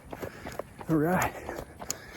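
Running footsteps land as soft rhythmic thuds at a steady jogging pace, with a brief voice cutting in over them midway.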